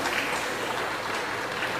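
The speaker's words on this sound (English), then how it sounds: "Thank you for clapping for Mr. Governor" An audience claps steadily for the Governor at a Heritage for Life Foundation event, a dense, continuous wash of applause that holds at an even level with no talk over it.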